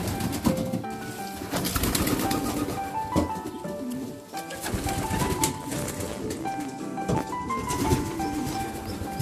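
Pigeons in a loft coo repeatedly, soft overlapping calls amid clattering, shuffling and flapping sounds, moderately near, with no speech.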